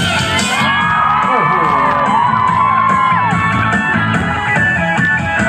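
A large concert crowd at Umay+ event, Muang Thong Thani, cheers, whoops and shouts loudly and continuously, with high excited yells and a singer's voice weaving through the roar.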